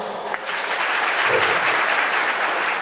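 An audience claps at a centenary event honouring Dr. Bhupen Hazarika, a broad, sustained wash of applause that swells and holds loudly for a few seconds.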